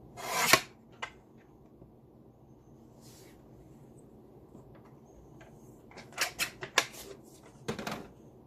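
Scissors cut down the side of a paper piece for a shabby pink roses craft project, giving scattered close snips and rasps, then a quicker cluster of crisp cuts near the end in a quiet room.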